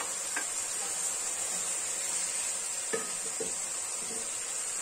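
Shallots and garlic sautéing in a pan, a soft steady sizzle with a few light clinks of a utensil stirring, close and without talk.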